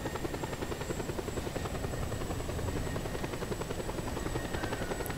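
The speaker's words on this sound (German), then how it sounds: "Dann nehmen wir einen Helikopter und verfolgen wir ihn." Helicopter in the video game Just Cause 2, a steady rotor drone and chop that holds level throughout, close and continuous with no voices.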